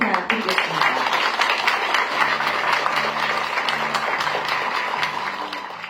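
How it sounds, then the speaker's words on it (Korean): A crowd at a Korean tourism event launch claps on cue, a steady dense patter of many hands held for several seconds, with a voice and music audible underneath. "셋 할 때 박수 부탁드리겠습니다."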